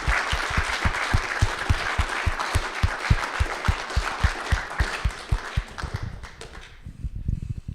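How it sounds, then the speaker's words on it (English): An indoor audience at capstone presentations applauds the teams with dense, loud clapping that holds steady, then thins into a few slower, separate claps as it fades out. "can we please give a round of applause to all of the Capstone teams?"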